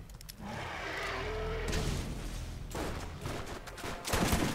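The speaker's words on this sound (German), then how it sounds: "Okay, mein Sniper macht auch ordentlich Bums hier. Shotgun auch." Heavy sniper rifle and shotgun blasts in the Borderlands shooter game, loud bursts of broadband gunfire over a dense rumbling action backdrop, with sharp crashing impacts near the end and no voices.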